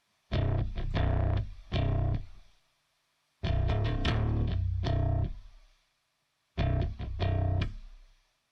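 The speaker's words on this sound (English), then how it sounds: "That's if you want to get some distortion there." Heavily distorted, fuzzy chords or notes from the Sonimus Britson console emulator plugin driven hard, played in three separate bursts with pauses between, loud and gritty with no talking.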